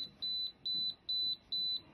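An electromagnetic radiation detector held near two mobile phones gives four evenly spaced, high, fairly faint beeps, each about a quarter second long, over low background rumble.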